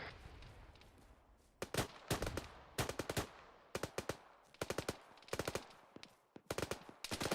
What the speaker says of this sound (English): Put some suppressive fire on that.